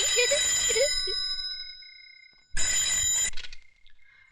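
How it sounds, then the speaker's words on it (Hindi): A telephone rings twice with a bright, trilling electronic bell, each ring about a second long, separated by a brief pause, loud and close. "बज गई आपकी घंटी।"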